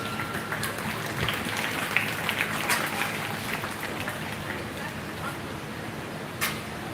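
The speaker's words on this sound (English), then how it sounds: "Let's give them a nice round of applause." Audience applause at a 4-H and FFA swine show at the 2024 Lancaster County Super Fair, a steady, dense patter of clapping heard from within the crowd that lasts throughout, with some voices mixed in.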